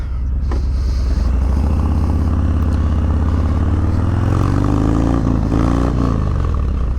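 A newer Harley-Davidson Milwaukee 8 Softail motorcycle rides on open range ground, its loud, steady engine rumble rising and falling slightly as the rider works the throttle, close to the microphone with no talking.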